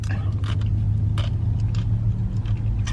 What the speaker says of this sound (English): Every time I film here, you guys hear the loud cars.